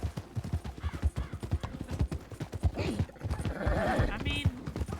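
Horse hooves clip-clopping in a Red Dead roleplay game, a quick irregular run of near, loud hoofbeats with occasional snorts or whinny-like sounds and a low voice underneath.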